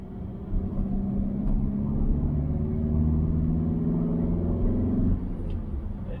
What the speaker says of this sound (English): Seems the turbo's kicking back in again.